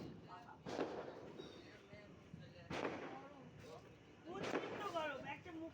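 Firecrackers bursting during Kali Puja celebrations, three sharp cracking bangs spaced a couple of seconds apart, with people talking and shouting nearby between the blasts.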